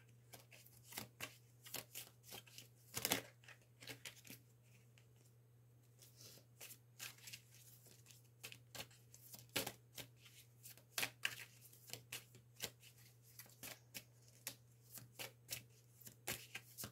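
Tarot cards are shuffled over and over, giving quiet, crisp riffles and flicks in an irregular rhythm. A steady low hum sits underneath and there is no talking.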